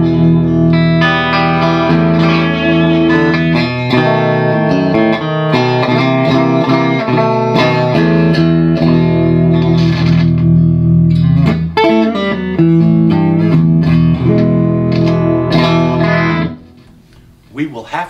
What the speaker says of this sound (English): I can now hear the guitar through the amplifier.